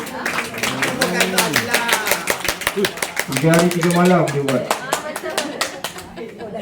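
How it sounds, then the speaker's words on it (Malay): Audience clapping at a farewell ceremony, steady rapid claps from a group running throughout, with people talking loudly over it. "Berikan tepukan kepada Cik Reza."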